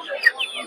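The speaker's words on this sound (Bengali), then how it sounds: "কালো সিল্কি মুরগি এগুলো সব।" Black Silkie chickens at a market make a few short, soft clucks in quick succession, close by and fairly clear with little else around.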